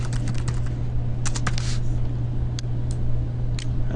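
Someone types steadily on a computer keyboard in quick, uneven bursts of close clicks over a constant low electrical hum.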